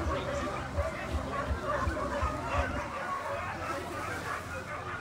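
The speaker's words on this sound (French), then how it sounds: "ce chant des chiens, les chiens de la Grande Odyssée VVF" Sled dogs at the Grande Odyssée race barking and howling, a rhythmic series of close barks that gives way to a broader chorus of dog voices with crowd babble and people talking in the background.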